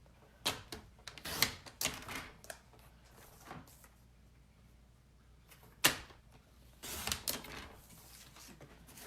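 Paper being trimmed for card making, a series of sharp slicing and clicking strokes in scattered bursts, fairly close and quiet between cuts, with no talk.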